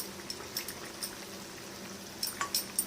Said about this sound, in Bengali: মাছগুলো দিয়ে এরা 1 মিনিট ফুটিয়ে নেবো, ফুটিয়ে নামিয়ে নেবো।